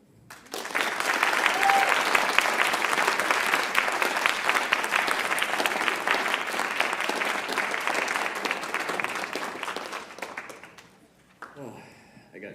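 An audience applauds at a writers expo, a dense sustained clapping that swells quickly, holds for about ten seconds and then fades away, followed by a brief quiet moment with faint sounds.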